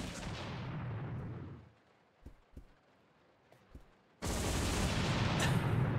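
Rapid automatic gunfire from a weapon in Resident Evil Zero, a loud dense burst that cuts off into near silence with a few scattered clicks, then resumes as a sustained roar.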